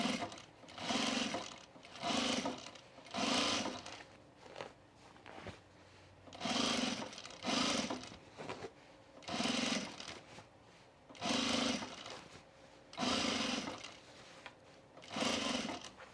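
Sewing machine stitching overalls, running in repeated bursts of about a second or two each, separated by short pauses, close and moderately loud with no talking.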